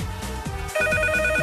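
A telephone rings on a Polish TV game show studio set, a repeating electronic ring tone with steady pulses, loud and clear with no talk over it.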